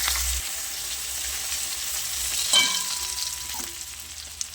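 Garlic and green chili paste frying in hot oil with cumin and asafoetida, a continuous close sizzle with a brief scrape of stirring partway through, no voices.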